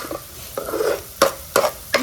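Tomatoes fry for masala bhurji in a pan, a soft sizzle broken by a few sharp, close scraping stirs of a spatula, with no voices.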